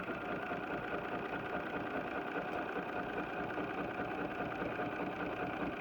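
A BERNINA sewing machine fitted with the Adjustable Ruler Foot #72 runs nonstop while quilting, an even, close mechanical whirr with a steady stitching pulse throughout.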